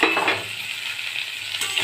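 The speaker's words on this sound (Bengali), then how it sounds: "ওলটা হালকা ভাজা হয়ে গেছে, এবার সব এই মশলাগুলো সব দিয়ে দিলাম" Spices tipped into hot ghee over lightly fried elephant foot yam hiss and sizzle close by, with brief stirring and utensil scrapes at the start and end of a short burst.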